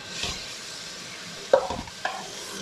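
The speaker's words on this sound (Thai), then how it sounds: "น้อยใส่กุ้งลงไปเลยค่ะ" Six fresh shrimp stir-frying in a pan with shrimp paste and garlic, with a steady close sizzle and a few sharper clatters of stirring toward the end.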